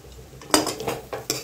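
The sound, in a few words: stirring poha in a pan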